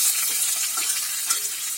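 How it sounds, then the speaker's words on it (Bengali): Green banana and potato pieces fry in a pan with a loud, close, dense sizzle that holds steady throughout the short stretch. "এই কাঁচকলা আলুটাকে একটু ভালো করে ভেজে নিতে হবে"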